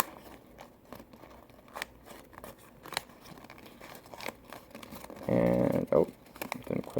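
Origami paper is folded and creased for a modular turtle, producing soft crinkles and sharp crackling snaps close up, with a louder burst of rustling near the end and quiet speech in places.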